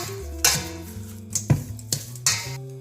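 Shrimp sushi bowl ingredients with pepper and pink salt being stirred in a bowl: a spoon scrapes and clinks against the dish in several rhythmic strokes, close and clear, with no talk.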